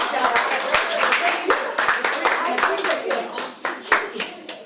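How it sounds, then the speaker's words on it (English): Listeners at a poetry night clap for a poet about to read, producing a dense, close patter of individual hand claps with uneven rhythm and a few louder claps standing out from the group. "Round of applause for Claudia."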